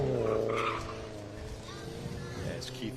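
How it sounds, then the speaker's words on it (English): A race car climbing the Weatherly Hillclimb course, its engine note strong at first then fading as it moves away, with a brief tyre squeal near the end and a voice talking over it. "As Keith Gerhard attacks the wall turn."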